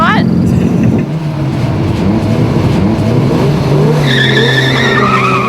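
A Toyota Corolla pulls away from a standstill and its engine revs climb through first and second gears with tire noise, loud and close, while people talk over it and another car is audible.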